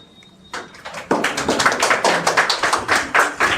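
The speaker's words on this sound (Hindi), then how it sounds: "चलिए आप लोग ताली बजाइए।" Students in a classroom break into clapping: a few scattered claps at first, then a fuller, rhythmic round of close, sharp handclaps from a small group.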